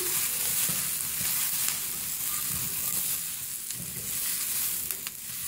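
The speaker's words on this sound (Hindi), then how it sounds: "इसको भी साथ ही फ्राई कर लेंगे।" Cauliflower and green chillies frying in about a quarter cup of oil, a continuous dense hiss and sizzle with faint low stirring movements underneath, no voices.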